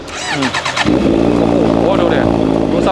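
A Honda CB650R motorcycle cranks and fires up, then settles into a loud, close, steady idle rumble.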